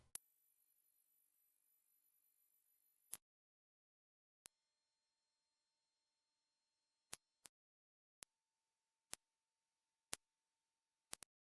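Pure high-pitched sine test tones from a hearing test, one long steady tone followed by a second, even higher tone, then several short faint ticks against silence.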